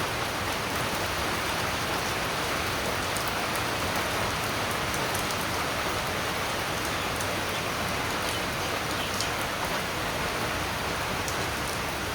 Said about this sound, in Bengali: এই দেখেন বৃষ্টি